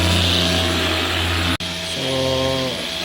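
A car polisher buffs the paint on a Ford Ranger with a steady, loud whirring drone that cuts out briefly, then spins back up with a rising whine.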